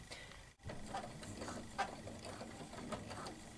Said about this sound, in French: je vais coudre à 1 cm en commençant bien par un point d'arrêt